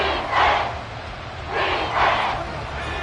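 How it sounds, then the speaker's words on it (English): Stadium crowd in an American football video game, a steady roar that swells twice into louder cheering bursts during a fourth-quarter goal-line stand. "This crowd doing all they can."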